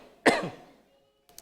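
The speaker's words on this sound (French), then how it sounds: "C'est pas vous qui me faites tousser" A single sharp, close cough from a person recovering from illness, followed by a short fading rasp and a faint breathy noise a moment later.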